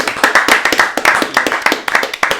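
A small group in a recording studio claps for a band, with close, uneven, individually distinct claps in a loose rhythm.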